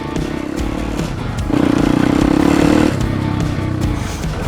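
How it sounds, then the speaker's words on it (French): A 2020 YCF 190 Biggie pit bike with a five-speed Zongshen engine, running steadily and loud with a rising rev in the middle before it settles back. "Alors ma moto c'est une 190 Biggie YCF de 2020"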